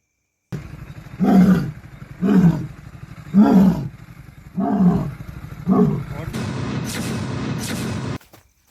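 A lion roars five times in a steady rhythm, each deep, rumbling roar loud and close, followed by a few seconds of harsh, hissing noise that cuts off abruptly.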